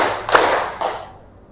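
A class clapping together in a rhythm pattern, two sharp, close group claps about half a second apart, then quiet.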